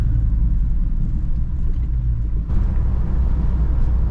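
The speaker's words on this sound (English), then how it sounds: "Just listen to this beautiful truck." A truck engine idles and cruises with a steady, loud low rumble heard from inside the cab, its tone shifting slightly partway through.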